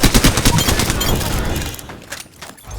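Rapid bursts of gunfire in a shooter video game against a Predator, a dense fusillade of overlapping shots loud and close at first, thinning into scattered fainter cracks toward the end.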